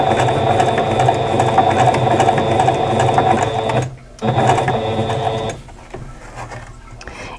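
A sewing machine stitching appliqué on a quilt block runs in a loud, steady mechanical whir, stops for a moment, then starts again and soon fades to a lower hum.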